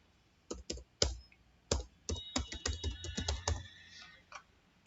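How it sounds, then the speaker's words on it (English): Keys clack on a computer keyboard as a login ID is typed, irregular bursts of sharp clicks with short pauses, close and clear with no talking. "And now I will type my login ID."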